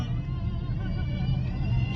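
Cars idle and creep in a rainy-road traffic jam near a temple, a close, steady low engine rumble with a faint murmur of voices underneath.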